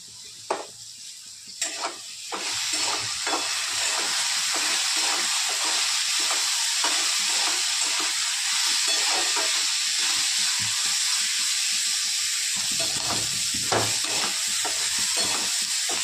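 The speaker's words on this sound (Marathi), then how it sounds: "आता याला थोडंसं आपण भाजून घेणार आहोत।" Fresh black-eyed peas roast in a little oil in a pan, with a steady close sizzle and repeated scraping stir strokes throughout.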